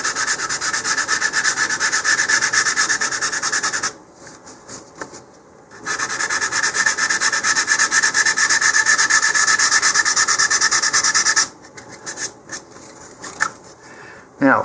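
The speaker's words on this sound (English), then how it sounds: "So first of all, I'm going to sand around the fin slots." Sandpaper rubs steadily around the fin slots of a LOC Precision Magnum park flyer model rocket, a loud, continuous close scratching with two short pauses and a few quieter strokes near the end.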